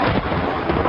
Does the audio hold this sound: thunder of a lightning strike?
yes